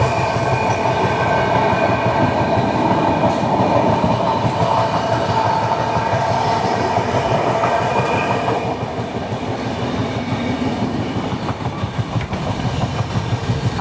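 Sachkhand SF Express passenger train from Amritsar to Nanded running steadily, with a continuous loud onboard rumble and rhythmic clickety-clack of wheels over rail joints throughout, dipping slightly in level partway through.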